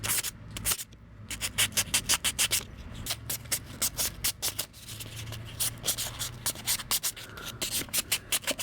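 A small die-cast Nissan Fairlady Z body rubbed by hand with fine 1000 grit sandpaper, a rapid run of short, close scratchy strokes in uneven rhythm, with no voices.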